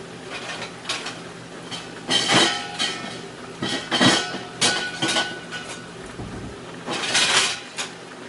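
Dishes and a plate are handled on a kitchen counter while breakfast of eggs and ham is served, with several sharp clinks and clatters spaced irregularly, close by.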